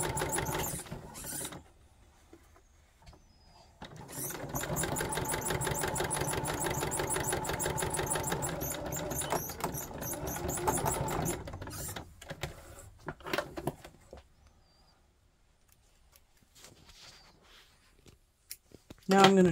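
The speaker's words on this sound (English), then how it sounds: "can also slow down your sewing machine" A sewing machine runs a trouser pocket bag seam in one long burst of fast, rattling stitches, followed by quieter scattered clicks and handling noises with brief pauses.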